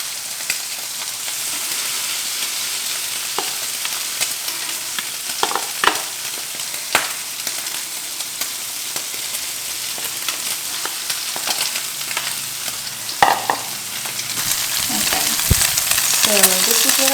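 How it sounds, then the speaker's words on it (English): Tuna patties fry in a pan with a steady, close sizzle, broken by scattered scrapes and small spatula taps as bits of tuna are set down and nudged. "You're just plopping down bits of tuna in the pan,"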